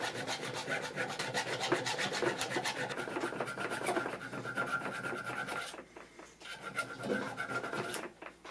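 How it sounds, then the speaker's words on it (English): A fine, slightly rounded metal file smooths the inside of a silver coin ring, producing fast close rhythmic rasping strokes that pause briefly near the end before resuming, with no talking. "Now I'm going to switch to this file that's slightly rounded just to get rid of any of these little points I have on the inside now"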